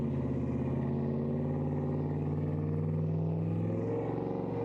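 Dodge Ram truck engine crawling slowly through beach sand, a low steady rumbling drone with slight rises in revs, fairly close and continuous with no talk.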